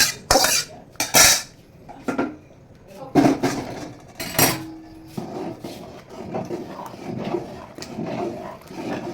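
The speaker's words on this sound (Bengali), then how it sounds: "আস্তে আস্তে করে অল্প আঁচের মধ্যে একটু একটু করে নাড়িয়ে নিতে হবে যাতে খিচুড়িটা নিচে লেগে না যায়" Khichuri being stirred in a pot over low heat: loud metal spoon scrapes and clanks against the pot in bursts, then softer scraping, with someone speaking over the later part.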